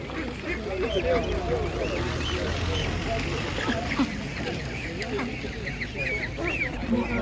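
Many ducks quack in a busy chorus at an animal market, mixed with crowd chatter and general market bustle.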